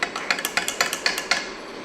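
Spoon stirring Irani tea with black tea and milk in a cup, giving a quick, even run of bright metallic clinks against the rim, about a dozen taps, close and alone.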